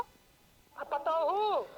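Landline-style telephone ringing indoors in a rural Awadhi household, a short electronic warbling ring burst rising and falling, fairly clear after a brief quiet lead-in.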